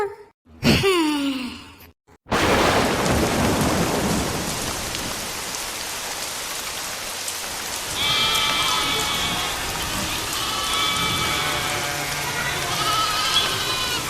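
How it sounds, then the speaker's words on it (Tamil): Heavy rain pours steadily during a thunderstorm in a Tamil cartoon, a loud dense hiss with rumbling thunder, after a brief sigh-like voice at the start. "மழை"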